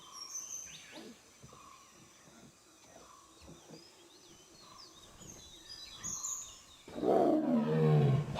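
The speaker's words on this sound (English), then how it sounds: "The tiger's coming. He's growling." A wild tiger in Bandhavgarh National Park, India, growls out in the forest, low rumbling roars building and ending in a loud close growl, with birds calling and faint vehicle noise around.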